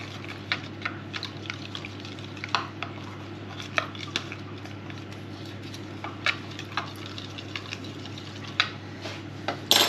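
A spoon clinks and scrapes against a pan while a thickening mixture of dissolved powder and cold water is stirred, giving a steady run of light metallic taps and scrapes over a low constant background hum, with no talking.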